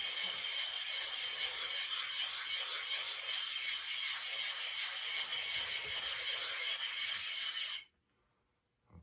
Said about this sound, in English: we're gonna soak them and we're gonna rub the stones together